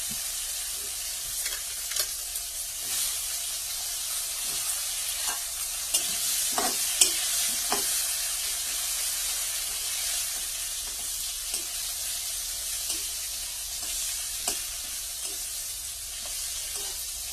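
Pointed gourd sizzles steadily in hot oil, with occasional stirring clinks and scrapes over a constant frying hiss.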